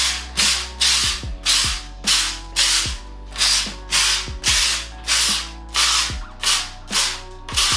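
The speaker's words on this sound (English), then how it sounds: "Just a soft sanding down of the grip tape just to make it not so harsh" Rhythmic rasping strokes of sandpaper on grip tape, about a dozen evenly spaced scrapes, close and fairly loud with no talking.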